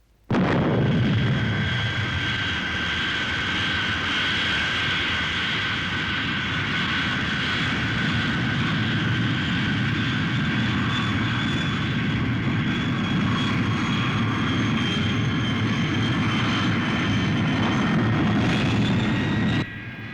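Fireflash airliner in the Thunderbirds episode Operation Crash Dive, its engines running throughout as a loud, steady roar with a whining high tone.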